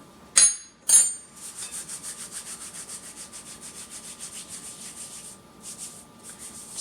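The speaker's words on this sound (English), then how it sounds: "just going to grind that up a little bit more" Dried herbs and spices for a dry gravy mix, including marjoram, paprika, salt and parsley, are ground close up. Two sharp knocks come first, then a steady, rhythmic scraping and rubbing continues for several seconds.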